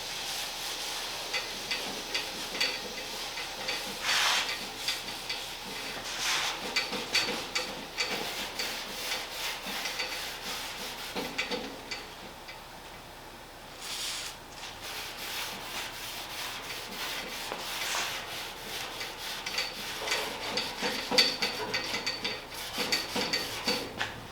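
Steady rubbing and scrubbing against a hard metal surface with brake cleaner, close up, with brief louder swipes scattered throughout and no talking.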